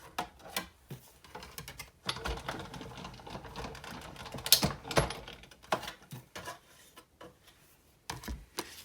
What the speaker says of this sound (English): I'm going to run it through my die cutting machine twice